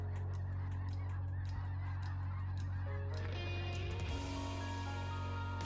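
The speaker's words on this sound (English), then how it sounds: "ducks, migrating" A flock of migrating ducks honks overhead, a dense chorus of overlapping calls over a loud steady low drone, rising into a busier cluster of honks toward the end.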